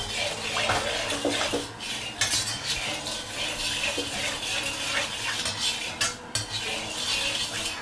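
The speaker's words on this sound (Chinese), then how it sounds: "锅里给点油，把锅润一下" Metal utensil scraping and clanking around a wok as oil is swirled to coat it before scrambling eggs, busy continuous stirring and clatter with a faint sizzle, close and fairly loud, no talking.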